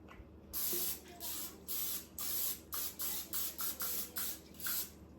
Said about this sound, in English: I'm going to use some spray oil on it